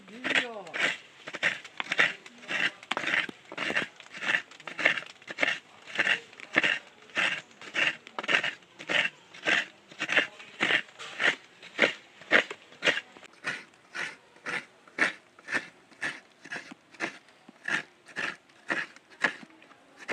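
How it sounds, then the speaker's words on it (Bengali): A whole coconut is grated by hand on a kurani scraper, giving a steady train of crisp rasping scrapes that speed up toward the end, close and clear, with no talking. "এবার আমি কুড়ুনি দিয়ে কুড়ে নেব নারকেলটা কুড়ে নেব।"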